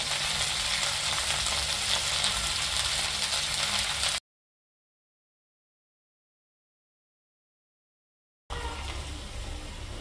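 Okra frying in a pan gives a loud, dense sizzle that cuts out completely for several seconds in the middle, then returns just as steadily, with nobody speaking.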